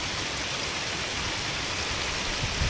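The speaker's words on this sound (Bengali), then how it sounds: "মাছ ধরার উপযুক্ত বৃষ্টি হচ্ছে।" Steady rain pouring down, a dense even hiss of drops with no pauses.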